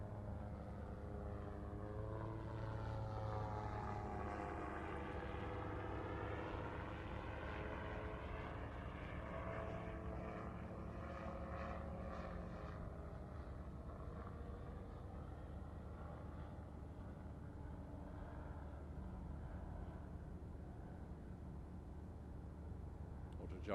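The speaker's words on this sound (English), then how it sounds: "Autogyro coming back into the centre." An autogyro flying at the Farnborough airshow, its propeller engine droning steadily with a rising and falling pitch as it passes, heard under a public address commentator talking.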